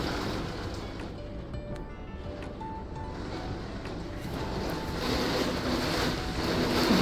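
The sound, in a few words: heavy downpour with wind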